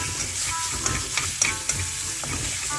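Marinated chicken strips hit a hot, oiled wok and give a steady, close sizzle with a few small pops and crackles throughout.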